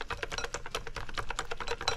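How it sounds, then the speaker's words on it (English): A whisk beating pumpkin scone batter in a bowl, making a quick, steady run of close, crisp clicking taps against the bowl's side with no talking. "Whisk to combine."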